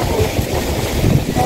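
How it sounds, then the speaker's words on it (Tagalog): Strong wind buffets the microphone during a storm, a loud, gusty low rumble with uneven surges over the brief moment. "Lakas ang hangin."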